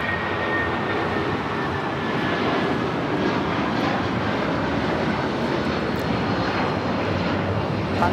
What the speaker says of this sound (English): It's United Airlines 1260 taking off to Denver on the 757-300.